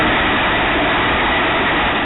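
A train rushes past on rail tracks near a station, a loud, steady broadband roar with no breaks, muffled and band-limited as if picked up from a distance or through a camera.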